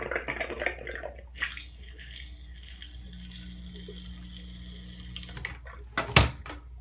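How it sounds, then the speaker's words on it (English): Water siphoning from a fish tank into a 1 gallon bucket, a steady trickling flow running for several seconds with a sharp splash or clatter near the end. "it definitely siphons a 1 gallon pretty quickly"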